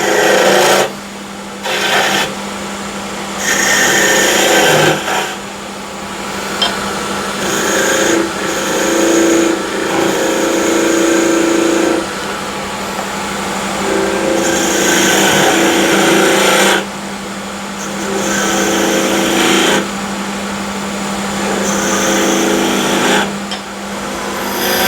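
Wood being turned on a lathe and cut with a skew chisel while shaping a salt or pepper shaker, a steady motor hum under continuous scraping and rasping that rises and falls in bursts with short pauses.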